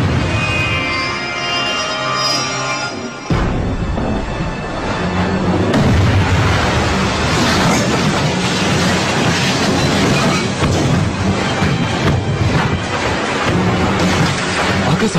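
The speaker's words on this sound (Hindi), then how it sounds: "दुश्मन की तोपें जाग उठी है।" Deep, booming blasts of cannon fire roll in over a dense, rumbling background, loud and continuous, following a brief stretch of musical tones at the start.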